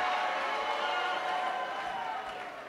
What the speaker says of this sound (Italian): dagli applausi dell'ex segretario Bersani